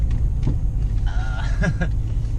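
An old Volvo redblock car with about 200,000 miles on worn shocks drives along, its engine a steady low rumble from inside the cabin with a brief higher whine partway through.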